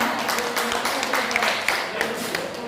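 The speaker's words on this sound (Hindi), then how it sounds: "इनके स्वागत में एक जोरदार ताली बजाओ" A classroom crowd claps steadily in welcome, a dense continuous patter of many hands at moderate loudness, sustained throughout without a clear pause.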